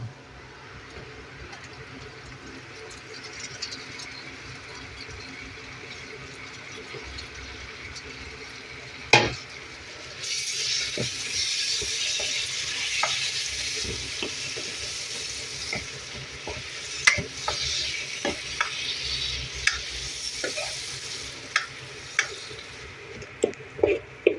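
Tomatoes go into spiced oil in a pan for a chicken dak bungalow curry at an office picnic. A quiet simmer jumps to a louder hiss when they hit the oil, followed by repeated sharp clinks and scrapes of stirring.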